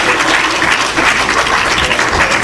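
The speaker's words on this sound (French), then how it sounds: "Un applaudissement pour Frère Fayot." A church congregation applauds Brother Fayot for his guitar playing, with loud, close, steady clapping that fills the whole short moment and has no talk over it.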